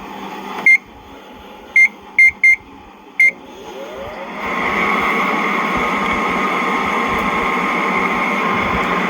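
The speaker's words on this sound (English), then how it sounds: "Throw that bitch in the microwave." Five short electronic beeps from a keypad, then a microwave oven starts up with a steady hum that continues to the end.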